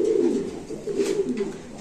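A Tiger Beauty pigeon coos nearby in a few soft, low throaty rolls, fairly close and clear.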